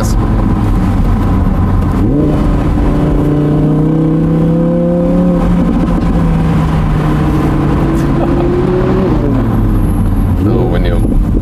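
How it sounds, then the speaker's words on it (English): A 2017 Audi R8 Spyder with a 540 hp V10 surges up in revs and holds a steady, loud drone. It then winds down as the car brakes and shifts down, ending with a short blip of throttle. "when you're using the brakes, shifting down, and then you can also very well hear the sound"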